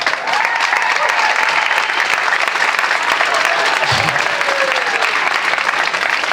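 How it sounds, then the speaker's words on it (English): A large audience at a stage event gives a loud, sustained round of applause, dense clapping holding steady throughout with a brief low thump partway through. "I want to give a massive round of applause to my mom"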